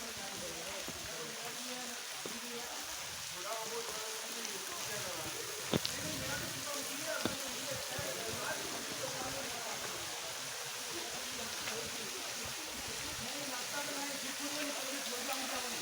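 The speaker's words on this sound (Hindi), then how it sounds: "वाटरफॉल रो झरणा रो साउंड आसलानो झिरझिर पानी रो" Steady broadband rush of falling water at Bara Bakhara Waterfall in Bargarh, Odisha, continuous and even, with faint voices and crowd murmur mixed in beneath it.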